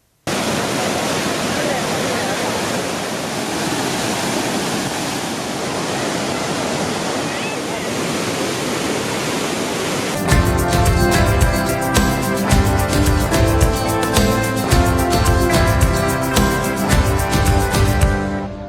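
Steady, dense roar of the Sreenarayanapuram waterfall on the monsoon-swollen Muthirapuzha river filling the first half; then loud rushing water continues under a rhythmic, tonal layer of music.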